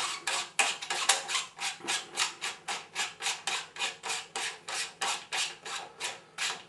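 The back section of a Skymax 180 Maksutov telescope is unscrewed, giving a quick series of rhythmic, close-up rubbing and scraping twists, roughly three per second, with no talking over them.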